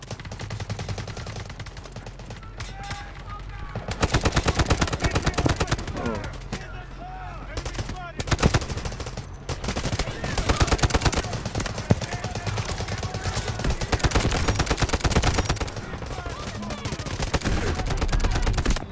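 Gunfire in the Delta Force video game: dense, loud bursts of automatic weapon fire and rapid shots crackle almost continuously, with a voice talking over the shooting at times.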